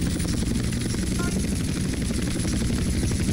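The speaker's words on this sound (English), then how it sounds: "when your helicopter starts to get damaged, it starts to, you know, become quieter, it starts to make a lower blades sound" A damaged helicopter in GTA San Andreas gives off a dull, lowered rotor-blade drone that runs steadily and loudly without pause.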